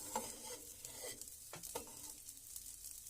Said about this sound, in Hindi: इस तरह से बहुत अच्छी तरह से इसको धीमी आंच पर फ्राई करते रहेंगे।